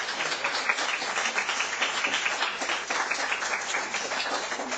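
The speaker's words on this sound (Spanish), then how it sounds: "damos un aplauso a las personas" Steady applause from a seminar audience, a dense wash of many hands clapping continuously at moderate volume.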